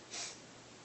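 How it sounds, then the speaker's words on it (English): A single sharp sniff drawn in through the nose during a voice therapy swallowing exercise, close and brief, with quiet breathy air afterward. "You have to sniff"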